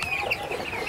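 Young chickens in an indoor pen give short, soft clucks and chirps close by, a brief cluster of calls with no talking.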